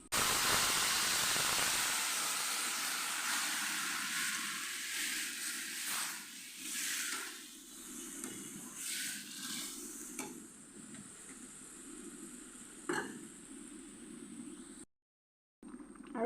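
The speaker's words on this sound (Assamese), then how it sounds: "আৰু মই এতিয়া কোমোৰাখিনি ঢালি দিম।" Chopped pumpkin hitting a hot oiled pan with cumin powder, a loud burst of sizzling that settles into steady frying hiss with intermittent scraping stirs, no voices.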